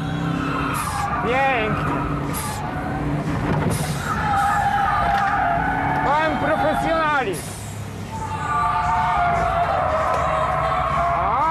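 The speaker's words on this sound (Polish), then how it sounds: "Wychodzimy tym autem, naprawdę, naprawdę rewelacyjnie, z każdego zakrętu." A Subaru on a test drive accelerates hard out of corners, alternating asphalt and loose surface, with engine revs rising and tires squealing and skidding close up, while someone talks excitedly over it.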